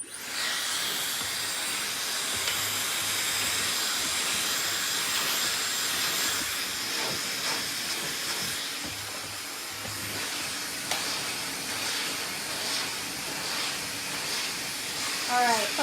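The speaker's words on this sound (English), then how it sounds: "the blow dryer is going on in 3" A blow dryer runs continuously while layered bottleneck bangs are styled at the roots after a haircut. It gives a steady, loud airy hiss for the whole stretch, with a stylist's voice faintly underneath.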